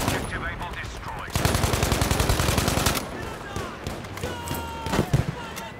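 Rapid machine-gun fire in Battlefield V crackles in a dense burst, followed by scattered single shots and thuds in a busy battle soundscape, with a voice speaking over parts of it.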